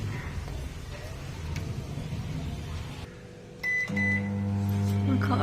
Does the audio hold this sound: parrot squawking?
no